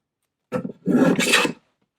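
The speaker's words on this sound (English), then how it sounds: "So I'm just going to start taking my shavings." A single hand-plane stroke rasps across wood for about a second, taking an aggressive shaving while shaping a Shaker farmhouse headboard; close and clear, with silence before and after.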